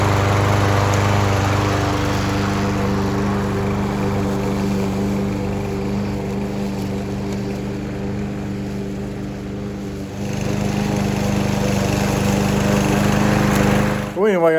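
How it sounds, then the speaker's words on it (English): A repaired small-engine lawn mower runs steadily at a constant idle, a close, continuous drone with a brief rise near the end. "I mowed a little bit with it, make sure you got the engine hot and make sure it ran good."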